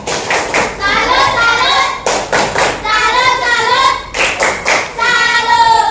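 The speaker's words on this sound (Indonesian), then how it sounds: "Kasih tepuk salut." A class of students claps in quick, uneven bursts with short pauses between them, close and loud, while voices talk and call out over the applause.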